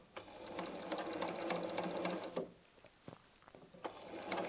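A sewing machine stitching patchwork fabric runs in a fast, steady mechanical chatter for over two seconds, then stops and gives a few scattered clicks and fabric handling noises, quiet and close with no voices.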